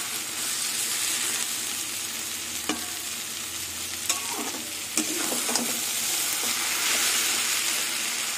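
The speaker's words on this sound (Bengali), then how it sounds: "একদম ভাজা ভাজা হচ্ছে।" Cabbage with prawns sizzles steadily in a hot pan, a continuous frying hiss broken by a few clacks and scrapes of stirring, with no talking.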